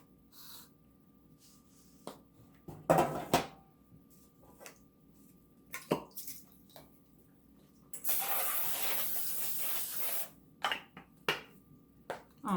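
Cooking spray hisses into a 9x13 baking pan in one steady two-second burst, with scattered kitchen knocks and clatter before and after.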